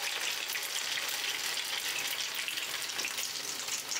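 A snack fries in oil in a pan, giving a continuous close, crackling sizzle that stays even throughout with no talking.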